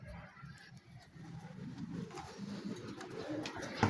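Racing pigeons in a loft giving soft, low, repeated coos that sit close and quiet, with light rustling and a slightly louder coo right at the end.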